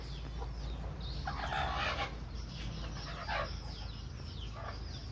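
Chickens cluck steadily inside a coop while a rooster crows once and then again, the calls close and clear over a constant low hum.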